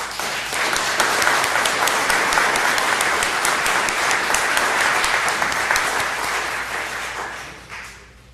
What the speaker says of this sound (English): give these employees another round of applause